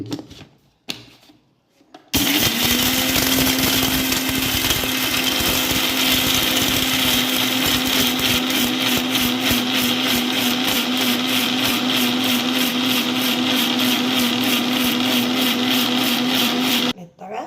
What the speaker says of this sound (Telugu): మిక్సీ పడుతుంది చూడండి. మిక్సీ పట్టేసిన తర్వాత మన గరం మసాలా రెడీ అయిపోతుంది.